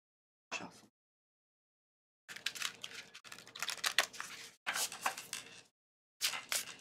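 Large oversized oracle cards being shuffled by hand, a dry papery riffling and crinkling in one short burst followed by several longer close bursts separated by brief silences.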